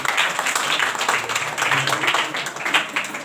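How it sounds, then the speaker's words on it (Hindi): A church congregation at a Hindi-language Christian service claps together in a dense, sustained burst of applause, with some voices mixed faintly into the steady clatter. "एक बार अब जो जाग रहे हैं उसके लिए ताली बजाए,"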